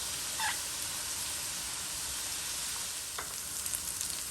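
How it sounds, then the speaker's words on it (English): Freshly chopped onions and tomato paste frying in a pan for a Guyanese-style dish, giving a steady, bright sizzle close up, with a couple of faint scraping stirs and no talking. "I'll go in with some freshly chopped onions and my tomato paste."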